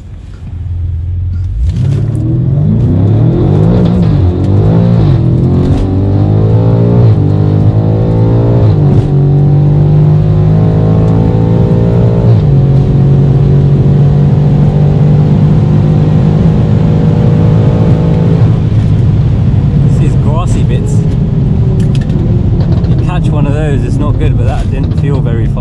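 A Stage 3 tuned 1000 bhp BMW F90 M5 launches and accelerates hard in a half-mile race, its loud engine drone climbing steadily through gear changes from inside the car while people talk over it.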